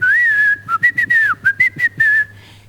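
On a comedy stage a performer whistles to mimic a swallowed whistle: a long shrill tone, then a series of short chirping toots in quick uneven rhythm, loud and alone.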